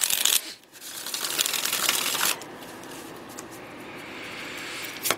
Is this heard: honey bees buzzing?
no